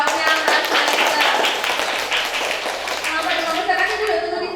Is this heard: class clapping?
yes